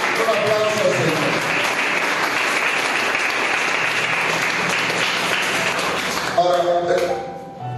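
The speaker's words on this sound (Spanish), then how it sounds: "Un aplauso al Señor." Church congregation breaking into lively applause during a Spanish-language sermon, dense clapping close and loud for several seconds before tapering off, with a voice audible briefly at the start and end.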